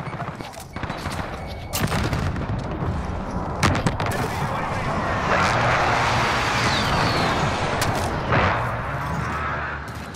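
An enemy precision airstrike lands in Call of Duty: Modern Warfare, with sharp gunfire cracks and heavy rumbling blasts swelling into a sustained roar of explosions, loud and continuous.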